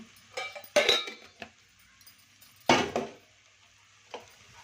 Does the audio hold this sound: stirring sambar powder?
yes